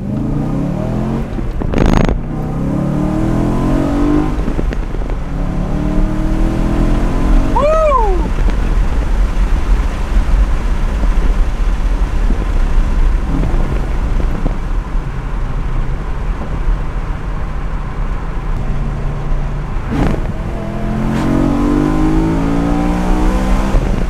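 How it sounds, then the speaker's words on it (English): A BMW E92 M3 fitted with an M Performance exhaust making a half-throttle pull, its engine note climbing through the revs and loud and close, with brief gear-change dips and a sharp whistle-like sweep partway through. "The engine noise just really takes over when you get high in RPMs."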